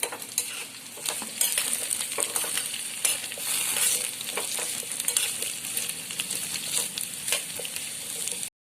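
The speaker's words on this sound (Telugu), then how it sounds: "అల్లం బాగా వేగింది" Ginger frying in a pan for pickle, a loud, close sizzle broken by repeated scraping and stirring strokes against the metal, with no voices.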